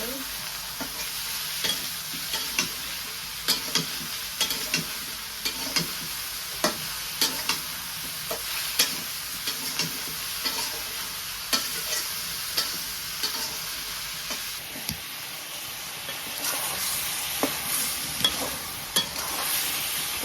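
Curry stirred and frying in a pan, a steady sizzle with repeated scraping strokes of the spoon at a regular rhythm, close and moderately loud, with no talking.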